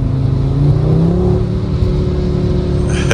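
A 2024 Audi RS3 with a mid-pipe exhaust accelerates hard close by, its engine note climbing in a loud, raspy rising drone over about three seconds.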